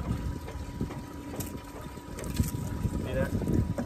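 A small pump bails water out of a flooded sailboat dinghy, giving a steady rough whooshing and splashing flow close by, with wind buffeting throughout.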